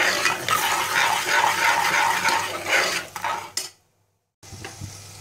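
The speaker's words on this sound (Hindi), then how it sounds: "इसको मैं हिला लूँगी।" Red chili powder, coriander, salt, fennel and amchur stirred in a hot pan, a continuous scraping sizzle close by that cuts off into near silence, then a quieter stir resumes.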